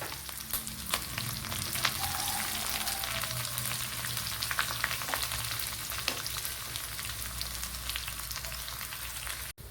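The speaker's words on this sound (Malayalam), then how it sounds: "കടുക് പൊട്ടിയിട്ടുണ്ട് അതിലേക്ക് ഒന്നോ രണ്ടോ കുഞ്ഞുള്ളിയും കൂടെ ചേർത്ത് കൊടുക്കാം" Steady sizzle of mustard seeds and shallots frying in hot oil, with scattered small pops and crackles, close and fairly even throughout, no voices.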